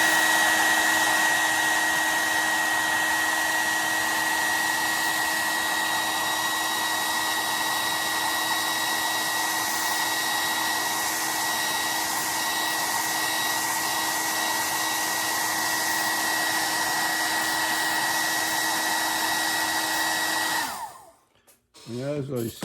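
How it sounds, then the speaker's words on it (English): A hair dryer runs steadily at close range for about twenty seconds, a constant loud whine with tonal hum, then cuts off abruptly near the end, used while painting an owl's tail. "hope and pray that my hairdryer works"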